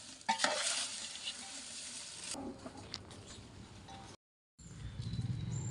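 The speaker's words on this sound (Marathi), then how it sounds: "हे आता सगळं खडे मसाले आपण व्यवस्थित भाजून घ्यायचे आहेत" Whole spices being dry-roasted in a large pan for a big batch of black masala, scraped and stirred with a dry rustling rattle, loud at first then quieter, broken by a brief gap.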